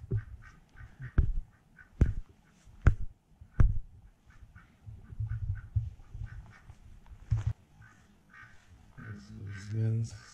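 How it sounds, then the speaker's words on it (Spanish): Geese kept at a hacienda in Alfajayucan, Hidalgo honk and cackle in scattered, irregular calls at mid distance, with several sharp bursts and a louder rising call near the end. "Sus gansos."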